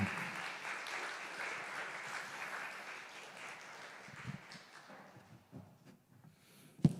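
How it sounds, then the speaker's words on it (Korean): Congregation applauding during a Sunday youth worship service at a church, a steady wash of clapping that slowly thins out and fades, with a few louder claps near the end. "하나님께 영광의 박수 올려드립니다"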